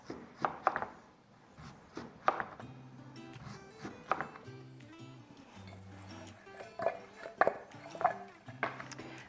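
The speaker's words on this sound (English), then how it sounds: "we're going to slice some nice, probably 1/4 inch slices off of it" A kitchen knife cuts a peeled beet into quarter-inch slices on a farm, giving a series of crisp, irregular chops against a board over low, steady background tones.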